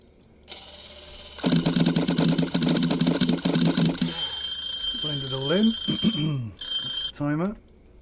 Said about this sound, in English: That's the timer.